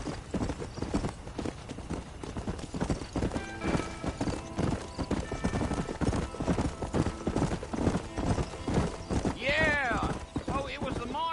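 Horse hooves clip-clop steadily at a gallop in Red Dead Redemption, near and continuous throughout, with game music and a horse whinny near the end, and a voice talking over the ride.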